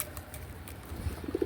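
Pet pigeons cooing softly at close range, with a few low, rounded coos clustered toward the end over faint background noise.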